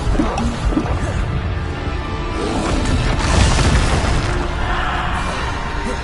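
Bombarda spell blasts in Hogwarts Legacy combat: a dense, continuous barrage of deep booms and crashing impacts, loud and close, with no clear gaps between hits.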